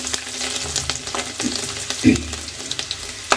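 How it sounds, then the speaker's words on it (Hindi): Garlic cloves, cinnamon, bay leaf and whole cloves sizzle in hot oil in a pan, a steady crackling frying sound broken by a few sharp stirring clinks and scrapes. "कुछ मैंने यहाँ पे लहसन की कलियाँ ली हैं चार से पांच वो मैं ऐड कर देती हूँ"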